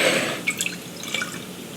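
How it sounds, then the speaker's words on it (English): Frank's Red Hot sauce pours into a half-pint jar, giving a close run of small liquid drips and splashes against glass, busiest at the start and then trailing off into scattered drops. "So now all we have left to do is to pour our Frank's Red Hot into our jar."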